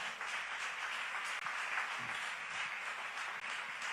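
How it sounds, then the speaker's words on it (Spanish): A church congregation applauding at a worship service, steady dense clapping from many hands sustained throughout without a break. "denle un aplauso fuerte a Dios."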